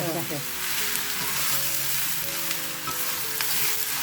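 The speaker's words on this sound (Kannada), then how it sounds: "ಸೊ ಇದನ್ನು ಹೈ ಫ್ಲೇಮಲ್ಲಿ 1-2 ನಿಮಿಷ ಈ ಥರ ನಾವು ಕೈ ಆಡಿಸ್ತಾ ಇರಬೇಕು" Brinjal frying in a pan over a high flame while being stirred, a loud steady sizzle with occasional scraping of the spatula, continuous and close up, with no talking.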